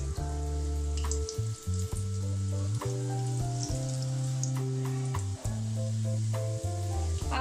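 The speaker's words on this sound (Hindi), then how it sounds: "और बहुत जल्दी फ्राई हो जाते हैं, सिर्फ 2 से 3 मिनट लगेंगे और ये फ्राई हो जाएंगे।" Lentil dahi bhalla dumplings fry in oil on a low flame, a continuous soft sizzle and crackle running under steady background music.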